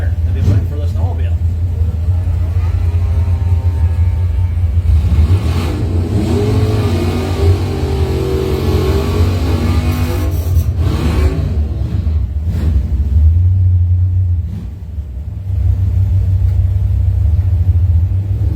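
At a drag strip, a 1998 Saturn SC2 and a snowmobile sit at the line for a race launch. A heavy engine rumble and revving runs throughout while an announcer talks over it.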